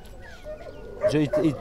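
Turkmen Alabai dog at a dog market in Fergana, giving a couple of close, harmonic barks or yips in the last half-second, with people talking throughout.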